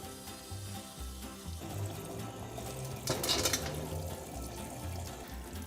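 Tap water runs into a sink while sand is rinsed clean of fines, a steady close splashing with a brief louder gush partway through and faint knocks underneath, no voices.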